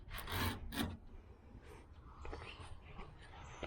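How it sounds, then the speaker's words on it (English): A hand scraper strips old paint and clear coat off the body of a 1981 Chevrolet Silverado truck, making close, faint raspy strokes. A couple of firmer scrapes come first and lighter scraping follows. "it'll save a lot of sandpaper just scraping it off with this"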